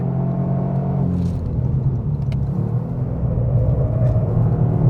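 A 2024 Toyota GR Yaris engine with automatic gearbox drones loudly and continuously from inside the cabin on a race track, a deep rumbling hum that swells slightly as the car accelerates.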